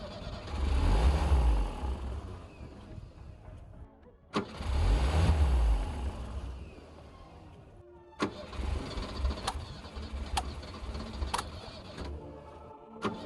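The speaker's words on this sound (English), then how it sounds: "it just won't remain running once we let go of the ignition key's starter position." A 1980 Bayliner powerboat engine cranks and catches in loud bursts, dies back twice, then gives a weaker sputtering attempt with sharp clicks, all close by and without talk.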